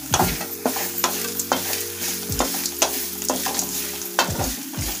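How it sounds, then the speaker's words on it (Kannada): Grated coconut being fried and stirred in a pan for a potato and chickpea curry: a soft, continuous sizzle broken by repeated scraping strokes of the spoon, close up, with no talking. "ಇವಾಗ ತೆಂಗಿನಕಾಯಿ ಹಾಕೊಳ್ಳೋಣ. ಒಂದು ಸ್ವಲ್ಪ ಹುರಿದ್ರೆ ಸಾಕು ತೆಂಗಿನಕಾಯಿ."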